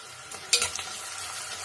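Chopped onions hit a hot pan of fenugreek seeds for a tamarind prawn fry: a brief clatter of stirring over a faint, steady sizzle.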